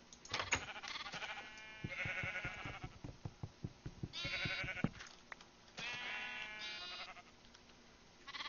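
Repeated Minecraft sheep bleats come in short bursts, several overlapping, with a clicking patter of steps in between, fairly close and clear.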